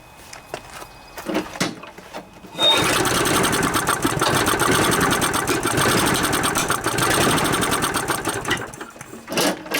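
After a few false pulls, a Briggs and Stratton 6.5 hp Intek OHV lawnmower engine with a plugged-up fault sputters and catches, chugging loudly and steadily with a rapid rattling rhythm.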